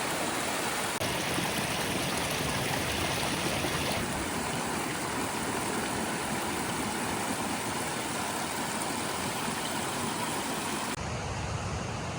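A waterfall and mountain stream rush continuously through a meadow near Whistler, a dense, loud, unbroken roar of flowing water with no voices.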